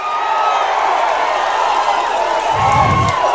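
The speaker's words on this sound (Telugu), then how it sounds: "గట్టిగా చప్పట్లు కూడా చెప్పండి" A large political rally crowd cheering and whooping loudly, a dense continuous roar of many voices with a brief low thump near the end, close and sustained.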